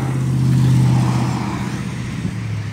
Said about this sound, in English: A lot of traffic on the road this morning.